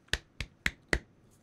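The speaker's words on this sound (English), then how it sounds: "that sounds like a golf clap or something" Four soft, slow, evenly spaced claps in a polite golf-clap style. Each one is crisp, close and isolated, with no voices around them.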